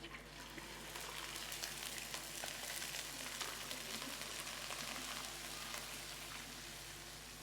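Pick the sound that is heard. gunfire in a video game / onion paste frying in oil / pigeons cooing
onion paste frying in oil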